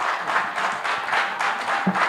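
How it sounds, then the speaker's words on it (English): A quiz audience claps for Team Soroti, a steady patter of many hands at moderate distance with slight swells in intensity over a couple of seconds. "Clap for Team Soroti."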